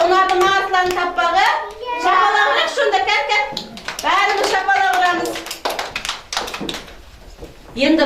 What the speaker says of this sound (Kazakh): Бәріміз шапалақ ұрамыз.